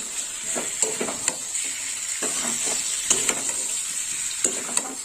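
Fried potato and taro are stir-fried in a spiced curry base for a fish dish, with a constant sizzle broken by repeated rhythmic spatula scrapes and clacks against the pan, up close and without voices.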